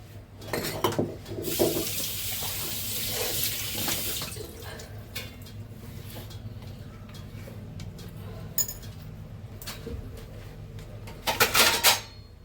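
Fresh fish rinsed by hand under a running kitchen tap, with steady splashing water, louder gushes near the start and end, and scattered clatters of handling in the sink, with no speech.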